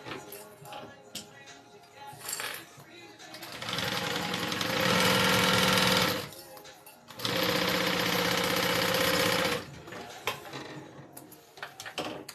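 A sewing machine stitches a fabric bag together in two sustained whirring runs, each a few seconds long and fairly close, with quieter handling noise between the runs.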